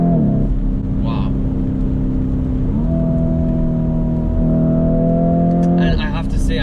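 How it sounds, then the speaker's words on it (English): A Lamborghini Urus SUV's engine roars loudly up close, the tone stepping up through quick gear shifts as it accelerates, with a voice talking over it. "I hope you guys can hear that engine because it's very loud"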